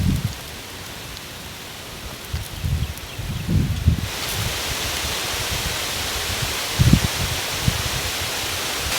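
A garden hose nozzle spraying water outdoors at a house, fitted with a size 3 tip and run without a booster pump, gives a steady broad hiss of spray that grows louder and fuller partway through, with faint low thumps underneath.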